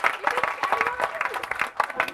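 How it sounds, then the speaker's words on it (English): An audience applauds a lifetime achievement award at a tax tribunal event, with dense, sustained clapping and crowd noise, loud and close, while a voice speaks over it. "Let's continue to clap for him."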